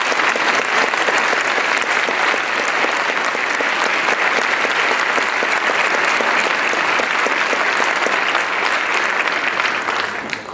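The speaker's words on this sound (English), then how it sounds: "I think we should give a round of applause for all of our teachers" Audience applause after a school regional symphonic orchestra concert, honoring the orchestra teachers: steady, dense clapping from a large crowd that holds at full level for about ten seconds before trailing off at the end.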